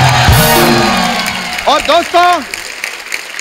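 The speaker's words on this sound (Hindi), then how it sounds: "जोरदार तालियां।" Loud studio audience applause and cheering on a comedy talk show set fills the background, with someone speaking over it.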